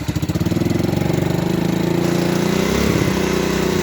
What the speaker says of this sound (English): Alright, sounds like a little lawnmower.